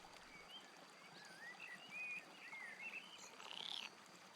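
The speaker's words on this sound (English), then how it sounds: "The rocky bank smells fresh and is filled with the sound of frogs, insects and birds" Frogs, insects and birds by a rocky river bank in the video game Roadwarden, a faint steady chorus with thin chirps and whistled bird calls rising over it, quiet and without talk.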